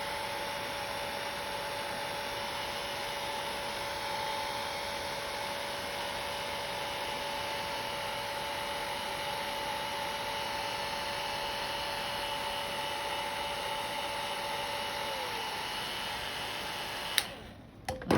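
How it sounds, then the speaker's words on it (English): Hair dryer blowing steadily to dry lacquer nail polish, a constant soft airy whir with a faint tone that shifts near the end before it cuts off with a brief clatter, no talk. "when you blow dry, you blow every angle, so that to make sure that the edge is fully dry"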